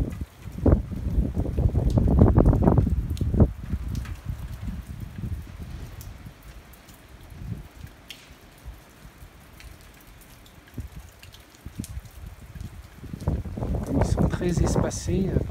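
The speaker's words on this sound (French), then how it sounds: "l'orage est toujours au-dessus avec des fortes rafales" Rain patters steadily during a thunderstorm in Chamalières, Clermont, France, while strong wind gusts swell and fade, loudest at the start and end.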